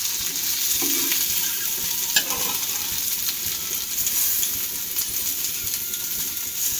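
Stuffed masala okra (bhindi) fries in a pan with a steady, bright sizzle. A few faint clinks from stirring break through the sizzle.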